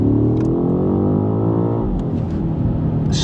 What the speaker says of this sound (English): So if I stab the throttle now,